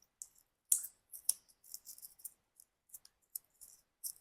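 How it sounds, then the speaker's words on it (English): Quiet, close snipping and crinkling from scissors cutting through plastic packaging of a ceiling fan remote and receiver, in irregular short bursts separated by silence. "scissors work better than trying to cut it with a box cutter"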